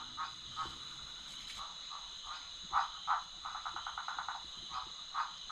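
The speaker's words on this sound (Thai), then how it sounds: "ทางนอกมันแต่เสียงกบเขียดมันอยู่ในกองใบไม้" Frogs croaking in leaf litter at a night forest camp, a quiet chorus of short repeated croaks, some in quick rapid runs, over a steady high insect drone.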